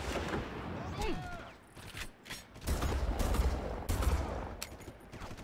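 Bursts of gunfire and explosions from the video game Far Cry, with rocket attacks nearby, crackle in the middle distance, loud and repeated, interrupted by a brief lull.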